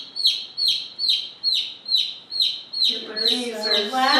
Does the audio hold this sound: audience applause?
no